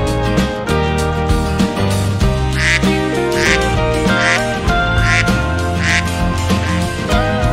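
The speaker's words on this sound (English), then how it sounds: "Duck." A duck quacks in a short series of evenly spaced calls over loud, steady backing music on a farm-animal quiz.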